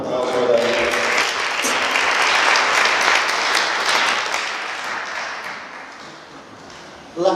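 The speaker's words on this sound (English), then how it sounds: "So a round of applause for that." An audience breaks into sustained applause, loud and dense at first, then gradually thinning out before a voice returns at the end.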